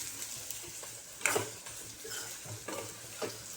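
Moong amti ingredients fry in hot oil with a low, quiet sizzle under faint stirring scrapes, marked by a sharper clink about a third of the way through.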